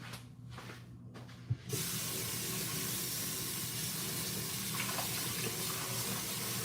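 Tap water runs steadily into a sink while potatoes are rinsed, a constant close hiss after a brief clatter near the start, with no talking over it.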